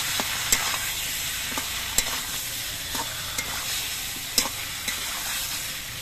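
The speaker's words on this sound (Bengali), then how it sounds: "এবার মশলা দিয়ে আর আলু বেগুন দিয়ে আরো কিছুক্ষণ কষিয়ে নিতে হবে।" Potatoes and eggplant sauté in a pan with a ground cumin and chilli paste, giving a continuous sizzle with sharp spatula scrapes and knocks at irregular intervals.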